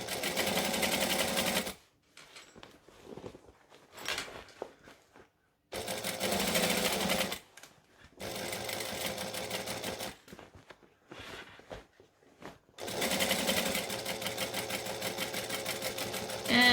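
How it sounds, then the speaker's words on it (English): Sewing machine stitching a line on a fabric bag, running in loud, steady motor-and-needle bursts that stop and start several times as the work is readjusted. "So I'm just going to stitch the line."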